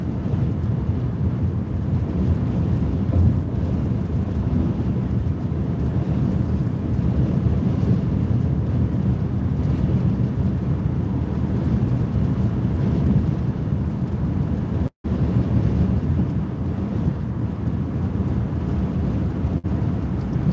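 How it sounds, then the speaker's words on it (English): Strong wind roars steadily beside a highway, a dense continuous rush with heavy low buffeting across the microphone, briefly cut out once, no voices. "Crazy wind."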